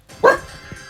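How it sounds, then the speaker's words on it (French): A dog gives a single short, loud bark close by indoors during a Brawl Stars game session, with no other talk. "Si vous entendez le chien aboyer c'est pas grave."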